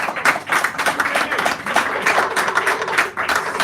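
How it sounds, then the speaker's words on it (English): Audience applause at a poetry hour in a San Francisco cafe, close and steady, a dense patter of hand claps running throughout without pause. "Give him a round a good applause."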